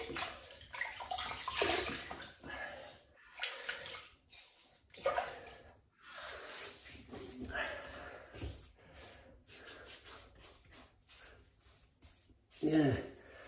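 Tap water runs intermittently as a shaving mug is wet before lathering, splashing in short bursts between stretches of someone talking close by.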